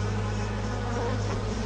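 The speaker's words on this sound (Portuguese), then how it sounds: "Outras ficam lá fora, esvoaçando para coletar néctar e pólen das plantas do seu jardim" Solitary bees buzz steadily among garden plants while gathering nectar and pollen, a close, continuous droning hum with no voices.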